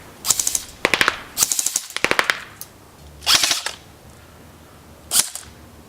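A Cybergun ICS Sig 551 airsoft electric gun fires several rapid bursts of sharp, snappy shots, with short pauses between the groups, loud and close with no talking.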